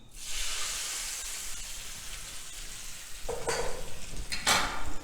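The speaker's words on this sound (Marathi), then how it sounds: "आता आपण ह्याच्यावर तयार फोडणी ओतायची आहे" Hot tempering of mustard seeds, asafoetida and turmeric is poured onto smoky potato bharta, giving a steady sizzling hiss with two sharper, louder bursts of crackle near the end.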